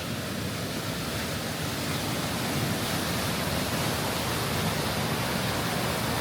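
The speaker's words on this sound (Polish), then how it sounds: "Idziemy przejść wodospad." Rushing water from a waterfall on the way from Montenegro to Albania near Lake Skadar, a steady, dense roar close by that stays loud and unbroken throughout, with no voices.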